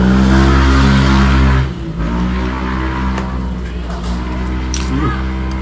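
An engine revs hard in a loud, sustained drone and then drops to a lower, steady running idle, close by and continuous throughout.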